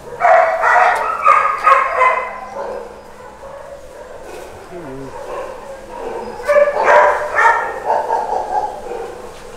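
Several dogs at a Soi Dog sanctuary kennel bark in excited bursts, loud and close, in two clusters with quieter gaps between, while people talk nearby.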